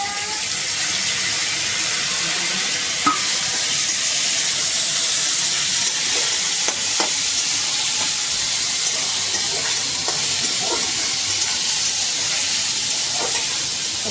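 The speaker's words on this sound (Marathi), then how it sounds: "कांदा लाल झालेला आहे तर आता आपल्याला टॅमेटो टाकायचा आहे" Tomato hits reddened fried onions in a pan, producing a continuous hissing sizzle with small crackles and pops scattered over it.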